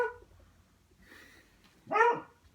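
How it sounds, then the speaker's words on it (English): An old dog barks in short bursts: a quick yelp at the start, faint whimpering, then a louder, sharper bark near the end, close by in an indoor home setting. "My old dog is starting to frantically bark whenever the little puppy looks at her."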